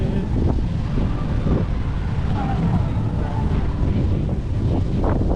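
Steady wind buffeting the microphone with a constant roar, nearby and loud throughout, with a faint watery wash beneath, up high in Intramuros, Philippines.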